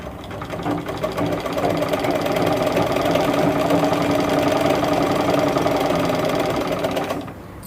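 Sewing machine stitching fabric in a tailoring class runs steadily and close for about six seconds, a fast even mechanical whir with rhythmic needle clatter, then stops.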